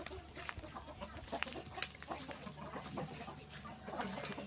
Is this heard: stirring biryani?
no